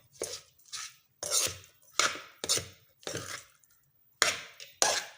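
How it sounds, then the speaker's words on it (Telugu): A utensil mixes cooked rice into a lemon rice tempering in a metal pan, making about eight separate scraping, clattering strokes in a steady rhythm, close and fairly loud. "యాడ్ చేసి బాగా మిక్స్ చేయండి."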